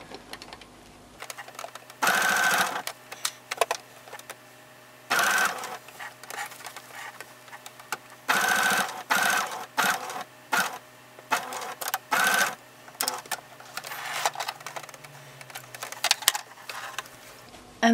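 A sewing machine stitches a fabric shoulder bag in repeated loud whirring bursts of a second or two, separated by pauses while the bag is manoeuvred, with quiet handling noise between runs.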